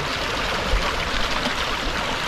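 A stream babbles and flows over rocks at a riverside fishing spot, a steady close rushing and gurgling of water with no voices.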